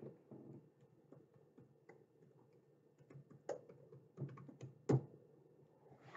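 Team names are typed on a computer keyboard in quiet, irregular taps, with a few sharper keystrokes near the end.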